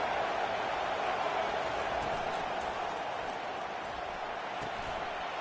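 Football stadium crowd at a Vanderbilt versus LSU game, a steady, wide roar of cheering that holds evenly throughout, with a commentator faintly audible underneath.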